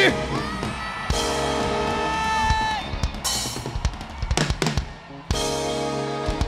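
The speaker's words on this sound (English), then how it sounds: "Somebody scream!" A packed congregation at a church youth gathering screams, whoops and cheers at full volume. The dense roar of many voices runs the whole time, with sharp yells and cries rising out of it.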